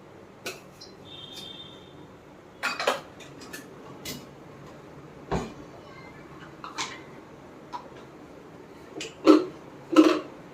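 Tea, sugar and masala containers set down one after another in a home kitchen, giving sparse light clinks and knocks spread across several seconds, with the last two taps louder and close.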